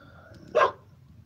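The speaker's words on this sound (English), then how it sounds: "So the dogs are letting us know." A dog gives one short, loud bark at a passing car, cutting through a quiet outdoor backdrop by a fire.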